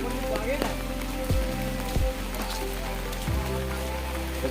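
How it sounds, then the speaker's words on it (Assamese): Raindrops fall steadily on surfaces in a flooded Assam village, a continuous patter over a low droning hum with a few short swooping sounds. "যিমানকৈ বৰষুণ টোপাল পৰিছে"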